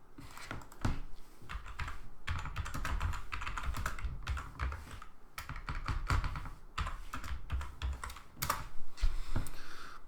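Someone types fast on a computer keyboard with a Spanish layout, with close, rapid clattering key presses in uneven bursts and brief pauses.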